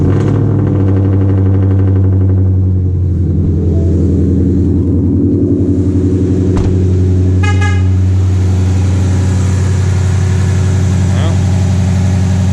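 A Ford Mustang S550 V8 fitted with a Boss intake manifold starts and settles into a loud, steady idle close by. Brief tonal beeps come partway through, and a voice speaks over the engine.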